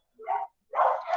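Two short dog barks ring out at home, close and fairly loud, separated by a brief pause, with no other sound around them.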